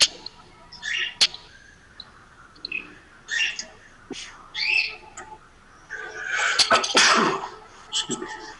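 A person sneezes during a committee meeting, a sharp burst standing out among scattered room noises and quiet murmurs, with people talking softly around it.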